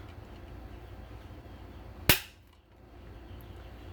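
A single sharp, loud click comes from a Tikka bolt-action rifle trigger released while measured with a trigger pull gauge, close up and alone against quiet room noise.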